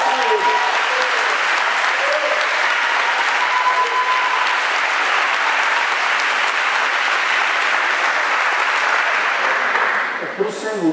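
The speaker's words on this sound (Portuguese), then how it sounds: "Agora, salve de palmas para o Senhor." A church congregation gives a loud, sustained round of applause for the Lord, thick continuous clapping from many hands that holds steady before tapering off at the very end.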